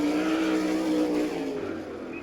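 A sprint car's engine roars at full throttle on a qualifying lap at an All Star Circuit of Champions dirt-track race in Abbottstown, PA, in 1999: a loud, sustained, steady drone that eases off slightly toward the end.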